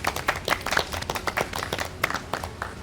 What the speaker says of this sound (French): Alors, applaudissez pour vous-même.